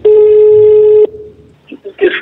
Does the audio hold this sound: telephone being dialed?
yes